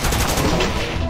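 A weapon fires in the top-down shooter game Crimsonland as a dense, loud, continuous burst of rapid shots filling the whole moment.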